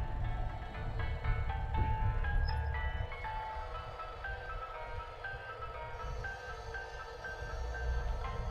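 Looping in-game music from Bayonetta on Wii U: a steady repeating melody of bright tones over a dense, continuous backing, playing at an even level with no talk throughout.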